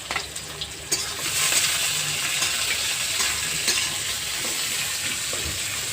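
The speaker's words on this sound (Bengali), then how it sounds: "রসুন কুচি, পেঁয়াজ কুচি, চেরা কাঁচা লঙ্কা সব একবারে দিয়ে একটু ভেজে নেব।" Chopped garlic, chopped onion and slit green chillies fry together in a pan for taro-leaf greens, giving a steady, close sizzle that swells after a quieter start and continues alone without talk.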